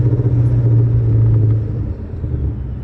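A supercharged Ford Mustang engine rumbles at low revs, with a steady whine riding over the drone for about a second and a half before easing off.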